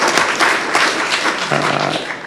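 Applause from the audience at a Montgomery County commissioners meeting, a steady dense patter of many hands clapping throughout, fairly loud in a room.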